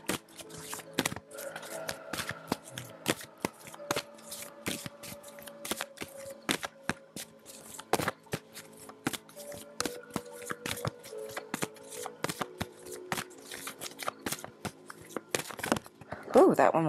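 Tarot cards being shuffled by hand, a dense run of crisp riffling and flicking bursts with sharp card snaps, close and moderately quiet, with a few soft voice sounds late on.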